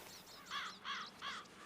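A crow in a video game caws three times in a steady rhythm, harsh rasping calls at moderate distance, with no talking.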